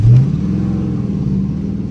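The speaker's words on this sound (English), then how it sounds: "POV drive through the valley in a snowstorm." A Dodge Charger RT driving through a snowstorm in a valley produces a loud, steady low engine rumble from inside the car, with a brief surge at the start and no talking.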